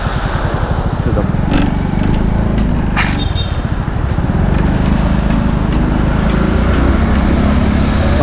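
A motorcycle ridden on the road from Hyderabad toward Goa, heard up close as a steady, loud engine drone with wind rush throughout, no talking.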